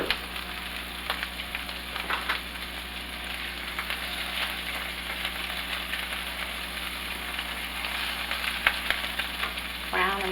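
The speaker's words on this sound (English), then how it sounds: "Okay, let's get these browned up." Swedish meatballs sizzle and fry steadily in a hot pan as they brown, a continuous close crackle with occasional louder spits and no talking.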